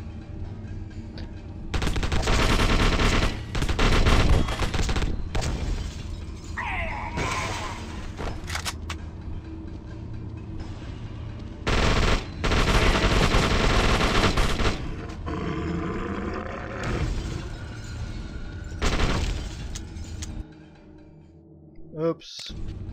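Heavy automatic gunfire in the horror shooter The Suffering: Ties That Bind, several loud, sustained bursts separated by quieter gaps with creature growls, ending in near silence.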